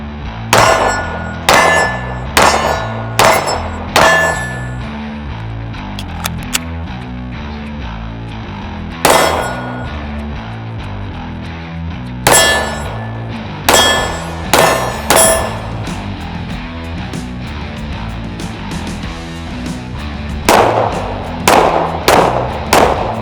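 Sig Sauer P320 RXP 9mm pistol fired repeatedly, one-handed with either hand, in sharp loud bursts of several shots with short pauses between strings.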